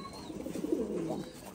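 Thai Titan pigeons kept in cages on a farm give a soft, low cooing burst at close range over faint background hiss.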